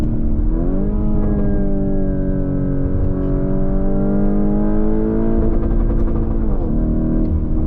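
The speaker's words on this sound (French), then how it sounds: "Écoutez le retour à l'échappement surtout." A Mansory Venatus of about 850 hp revving hard, its engine note rising and holding as a loud, sustained roar close by, with crackles near the end of the rev.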